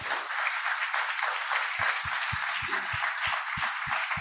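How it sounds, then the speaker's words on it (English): Applause fills a holiday salon concert gathering, a warm wash of many hands clapping steadily throughout, joined partway by a few sharp, louder individual claps up close. "Let's give them a big round of applause."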